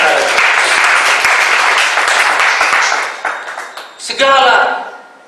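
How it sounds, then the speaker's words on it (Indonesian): Congregation applause at a church service fills most of the clip as dense, steady clapping, then thins out near the end as a voice comes in over it. "Mari kita berikan tepuk tangan."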